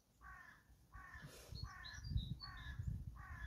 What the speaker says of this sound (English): Joined by the crows.